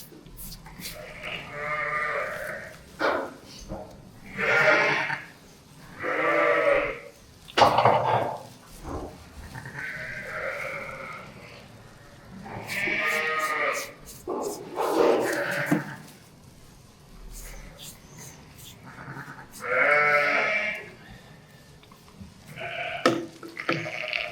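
A ewe bleats repeatedly and loudly in unhappy bursts, her two big twin lambs nearby at lambing time, with a voice speaking briefly between calls.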